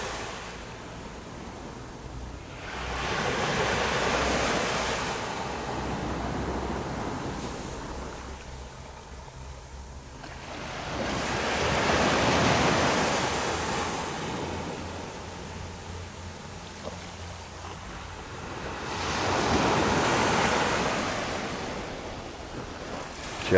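Surf breaking on Worthing beach in late November, three slow swells building and crashing in turn with wind noise on the microphone between them, no voices.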